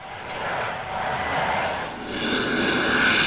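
An aircraft passes at the 1963 Paris Air Show, its engine roar swelling and fading in waves, fairly loud with no voices.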